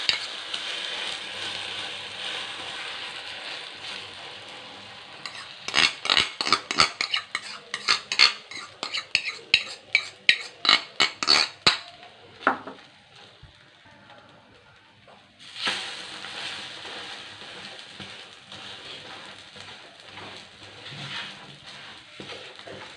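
Ponnanganni keerai egg mixture for an omelette is beaten with quick rhythmic utensil clinks against a bowl, then poured into a hot pan, where a soft continuous sizzle begins and carries on to the end.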